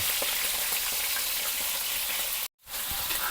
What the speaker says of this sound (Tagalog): nagpiprito din ako ng isda